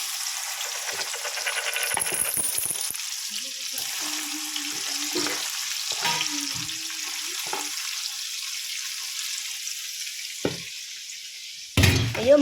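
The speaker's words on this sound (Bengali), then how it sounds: "এই যে মাংসটা ভালো করে একটু ভেজে নিচ্ছি।" Turmeric-coated chicken pieces fry in hot oil in a pan, a steady crackling sizzle running throughout with a few stirring clinks and scrapes, ending in a brief louder clatter.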